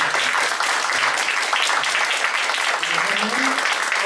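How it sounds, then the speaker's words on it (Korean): An audience at a church education department curriculum briefing gives sustained applause, a dense, even wash of clapping lasting a few seconds, fairly loud and close. "큰 박수 부탁드립니다."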